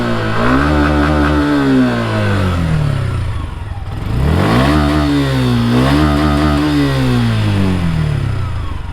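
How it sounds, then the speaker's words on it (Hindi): A Suzuki Intruder 150 BS6 cruiser motorcycle's exhaust burbles loudly up close, revved twice with rising and falling engine pitch and settling back to a throbbing idle between the blips, with no speech. "इसका एग्जॉस्ट नोट सुन लेते हैं."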